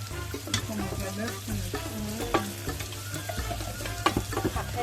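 Ingredients being stir-fried in oil until golden for a Sri Lankan-style eggplant curry, a steady sizzle broken by clattering spatula strokes and scrapes against the pan, near and clear, no talking.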